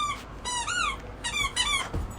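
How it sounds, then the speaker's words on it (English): A dog whimpers and whines close by in a series of high, wavering squeals with short gaps between them, fairly loud over a quiet room. "Sorry, that's my dog."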